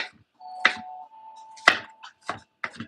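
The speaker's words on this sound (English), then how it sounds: "Just chopping up some veggies for my cheeseburger wontons." A knife chops vegetables for cheeseburger wontons in several sparse, sharp, close strikes, with a faint steady tone humming underneath and no talking.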